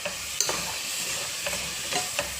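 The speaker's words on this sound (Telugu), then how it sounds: "So tomato వేసుకుంటున్నాము." Tomatoes fry in a pan for vegetable rice, a close steady sizzle with a few brief scraping stirs of a spoon, no talking.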